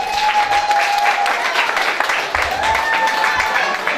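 Wedding guests at a restaurant banquet break into loud, sustained applause, a dense crowd of clapping hands filling the room, with a voice and faint music underneath.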